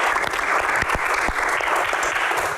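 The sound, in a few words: applause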